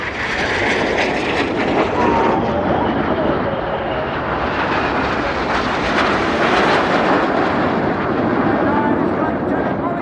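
Red Arrows RAF display jets perform at the RIAT airshow, producing a loud, continuous broadband jet roar that swells and holds steady throughout, with a commentator's voice running over it.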